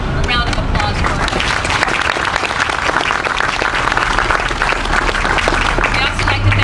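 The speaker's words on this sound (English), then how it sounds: "So a round of applause for them." An audience applauds at the outdoor unveiling of the Maurice K. Goddard historic marker, steady dense clapping that stays loud and continuous throughout, with faint crowd murmur beneath.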